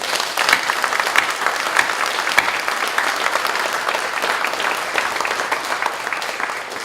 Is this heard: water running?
no